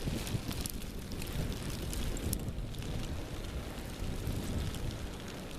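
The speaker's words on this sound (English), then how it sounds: "The wind's ridiculous." Strong wind roars through a snowy blizzard outdoors, a steady buffeting rumble pressing on the microphone for the whole stretch with no voices.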